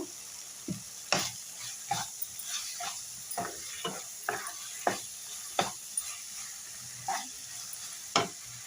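Masala fries in a pan with chili powder added, a soft steady sizzle under repeated sharp scrapes and knocks of a spoon stirring against the metal, close by.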